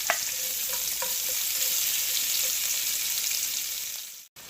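Onions sizzle and fry steadily in oil in a pan, a constant bright crackle with a few soft stirring clicks, close and alone without talk, cutting off abruptly near the end.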